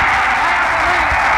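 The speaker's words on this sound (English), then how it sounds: "Listen to this Iowa crowd." An Iowa football stadium crowd roars in a continuous, loud wash of cheering just after a successful extra point, heard through an old broadcast recording.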